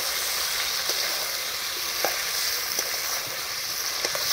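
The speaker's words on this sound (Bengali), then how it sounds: "এখানে আমি অ্যাড করছি কেটে রাখা আলু, এবং আলুটা দেওয়ার পরে এই মশলার সঙ্গে আলুটা বেশ সময় নিয়ে আমি একটু কষিয়ে নেব এটা" Diced potatoes frying with spice paste in a pan for a Bengali pangas fish and eggplant dish, giving a steady, close sizzle broken by a few soft stirring knocks, with no talking.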